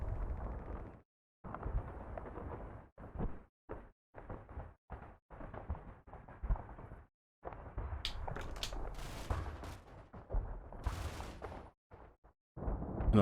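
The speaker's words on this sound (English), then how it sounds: "Another shot away." Tank gunfire in the Combat Mission: Battle for Normandy video game, American and German tanks engaging in a WWII battle, heavy booming shots and rumbling blasts in a dense, gapped sequence with sharp cracks toward the end.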